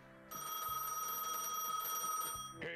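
Telephone ringing in Gas Station Simulator, a steady electronic ring with sustained bright tones that holds for over two seconds, then cuts off abruptly, with no talk over it.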